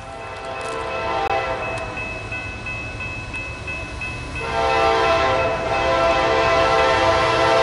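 A train passes by, its horn sounding a long steady tone over the continuous rumble and rolling clatter of railcars, loud and near throughout.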